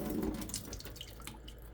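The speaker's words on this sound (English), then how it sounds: "Then I'll go in and I'll turn off the water." Kitchen tap water runs and splashes steadily into a bowl, a close, continuous hiss with light dripping, quiet and with no talk.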